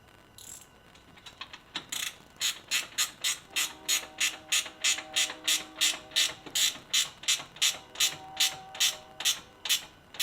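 A ratchet tightens a horn mount on a GR Corolla. After a few hesitant clicks, a long run of close, evenly spaced ratcheting strokes follows in a steady rhythm, with no voice.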